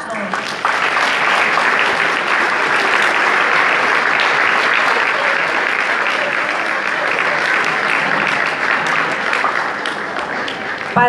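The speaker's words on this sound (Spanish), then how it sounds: "Recibimos a todos con un fuerte aplauso" A crowd gives a loud, dense round of applause at a municipal transit band's 2019 year-end closing event, filling the full eleven seconds at steady strength with a brief lull just before the end.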